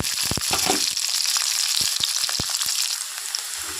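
Onions frying in hot oil with cumin in a pan, a steady bright sizzle throughout, with a few sharp crackles and pops early on and scattered clicks later.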